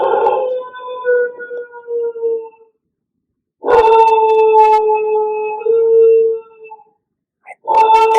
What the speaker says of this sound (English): He went on to howling again.